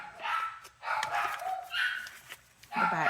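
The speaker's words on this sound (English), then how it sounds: "they'd rather stay in the living room and bark at the door." Several dogs bark excitedly at a door inside a living room, in repeated loud bursts with short gaps, close to the listener.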